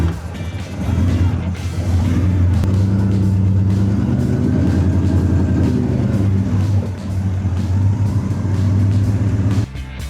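A 1934 car on the road, its engine a steady, loud low drone that holds for about ten seconds with slight swells, as if heard from inside while driving, then it drops off near the end.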